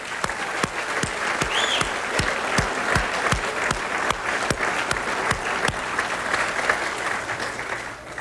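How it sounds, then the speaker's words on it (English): Audience applause at a Reform Party speech by Jesse Ventura, a steady wash of clapping from a crowd with a few sharp individual claps standing out, sustained and fairly loud throughout. "Let's give the press a round of applause for covering the Reform Party."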